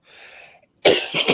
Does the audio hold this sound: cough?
yes